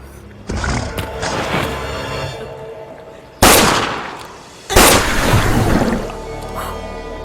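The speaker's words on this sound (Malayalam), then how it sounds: "ഇങ്ങനെ വെടിവെച്ചാ മതിയാ?" Two loud gunshots ring out in a comedy film scene, each a sharp crack with a rumbling tail, over a busy background of rustling and movement.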